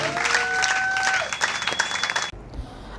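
A church congregation applauding during a worship service, dense clapping and cheering with high whistles, loud and close, breaking off abruptly near the end.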